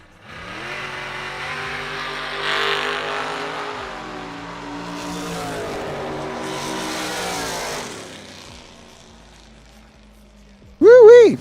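An outlaw drag race car at a Huntsville drag event revs and roars down the strip, its harmonic engine note climbing and falling for several seconds, ending in a loud sharp burst; voices are heard around it.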